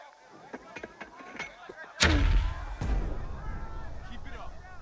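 Mortar and artillery fire in the Burden of Command tactical war game: a loud booming blast with a long rumbling tail, followed by a second heavy report, with a voice talking faintly before the shots.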